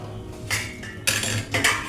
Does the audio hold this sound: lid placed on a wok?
yes